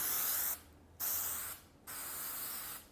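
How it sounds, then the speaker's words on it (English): An aerosol spray can lets out a light mist to reactivate adhesive on an acrylic panel frame, in two close hissing bursts separated by a short pause, with a third burst starting at the end. "you're just going to take an extremely light mist of this"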